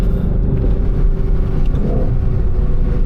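A Ford Shelby GT500 muscle car engine revs hard while driving, a loud, continuous low rumble and roar filling the cabin with no talk over it.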